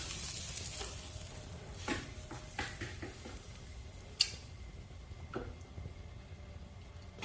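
Strip steaks sizzle on an indoor grill with a steady crackling hiss, broken by a few louder spits and pops, heard close with no talking.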